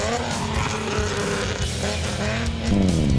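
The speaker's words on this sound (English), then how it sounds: "here's another production vehicle, number D20, setting off Marinus de Pree and Dick van Rensburg" Production off-road race car number D20 pulling away from the start line at an off-road race, a loud, steady engine drone rising in pitch near the end with some gravelly tire noise, no talk.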